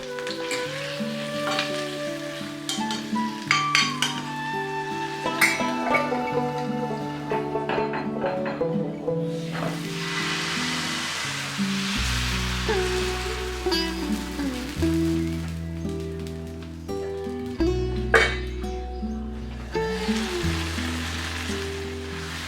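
Shallots, garlic, tomato and curry leaves fry in hot coconut oil, a continuous crackling sizzle with occasional stirring, heard under soft background music.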